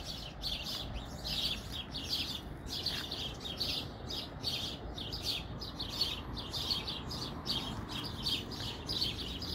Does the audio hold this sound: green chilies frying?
no